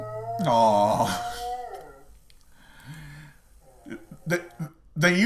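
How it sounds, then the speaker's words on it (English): A Saluki dog lets out a close, wavering howl that rises and slides before fading, followed by softer whimpering sounds and a few brief vocal bursts. "They usually howl, though, for the same reason other dogs do."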